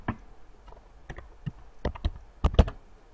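Someone typing a short folder name on a Windows 7 computer keyboard: a quick, uneven run of close key clicks that grows denser and louder toward the end.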